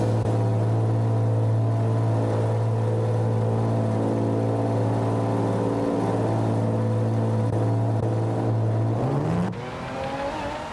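A Honda NSX GT500 '00 race car in Gran Turismo 7 holds a loud, steady engine whine while leaving the pit lane in the rain, then the pitch sweeps upward as it accelerates near the end.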